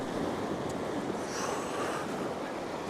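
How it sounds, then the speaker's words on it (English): Ocean waves surge and wash over a coastal rock in Queensland, a constant rushing roar with brief splashes and wind noise on the microphone, nobody speaking. "I'm just going to wait for waves to crash over this rock."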